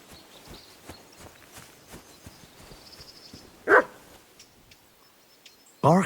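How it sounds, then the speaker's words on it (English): A dog in the medieval video game Kingdom Come: Deliverance II barks twice, loud and close, over soft footsteps and quiet ambience. "Barking?"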